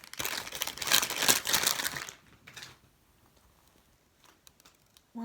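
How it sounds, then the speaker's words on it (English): Squishy foam doughnut toy squeezed hard, giving a loud burst of crinkly, crunchy rustling for about two seconds, then a brief softer squeeze and quiet. "One last squeeze."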